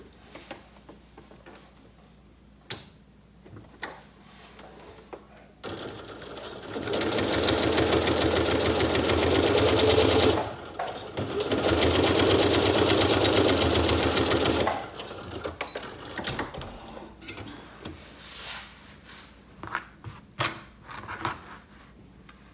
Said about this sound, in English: Now look at this finished top stitching.